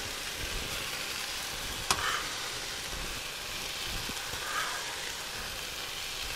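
Chili, bacon and ginger fry in a pot for a lentil stew, a low steady sizzle with one sharp clink of a utensil partway through and a faint scrape later, without speech.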